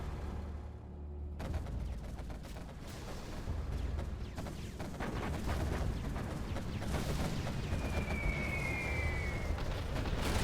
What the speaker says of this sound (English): but the artillery's coming in.